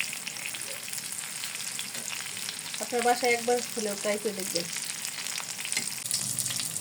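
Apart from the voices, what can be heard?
egg and pointed gourd frying in a pan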